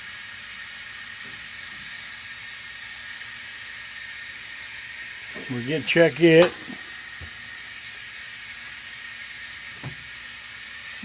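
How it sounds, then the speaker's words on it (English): An Instant Pot pressure cooker vents steam in a steady, loud hiss that continues unbroken, with someone speaking briefly over it partway through. "Let the steam out."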